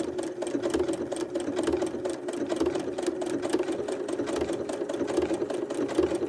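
A sewing machine stitching a quilt block, a rapid, steady mechanical whir and needle clatter running continuously at close range with small pauses in rhythm.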